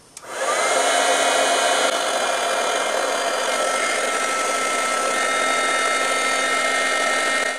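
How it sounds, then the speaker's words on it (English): A heat embossing tool blows hot air to dry bleach on cardstock, a steady close whooshing blower noise that switches on abruptly and runs continuously for about seven seconds with no speech. "If you would like to speed along this process, you can use our handy dandy embossing tool."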